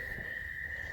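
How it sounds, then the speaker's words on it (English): A steady chorus of calling frogs drones from woods on a Missouri farm in warm weather, a continuous distant high trill heard alone. "You can hear the frogs in the background."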